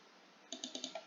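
Five quick keystrokes on a computer keyboard, crisp and close, come in an even rhythm after a short stretch of faint room hiss, with no voices.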